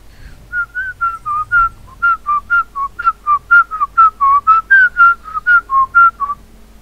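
A person whistles a quick melody of about twenty short, clipped notes in a steady rhythm. It is close, loud and alone.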